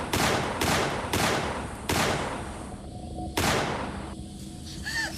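Six gunshots hit a man at close range, loud sharp reports spaced irregularly over a few seconds, each one followed by a short decaying echo.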